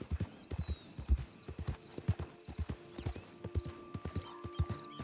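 Horse hooves clip-clop in Red Dead Redemption 2, a steady walking rhythm of distinct hoof strikes over a quiet ambient background, with a faint neigh-like tone mixed in.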